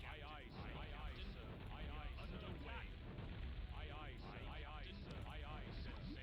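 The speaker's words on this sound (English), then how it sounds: "cannons in this game have a slight delay" Cannons and explosions thunder in a Warcraft II battle between humans and orcs, with dense repeated booming blasts layered throughout under a player's commentary.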